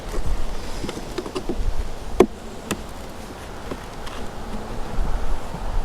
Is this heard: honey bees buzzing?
yes